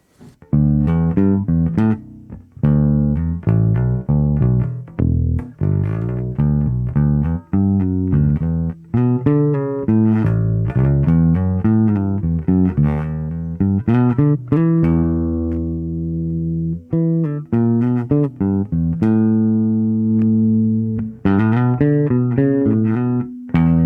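A 2018 Mike Lull P5 bass with its tone knob rolled back halfway, playing a continuous busy line of plucked notes at steady loudness, close and alone with no talk.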